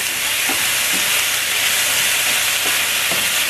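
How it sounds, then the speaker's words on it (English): Onions and peppers sauté over medium heat in a pan, a steady bright sizzle and hiss running continuously with a few soft stirring knocks, close and fairly loud, no talking. "I'm just going to saute these up for about 3 or 4 minutes."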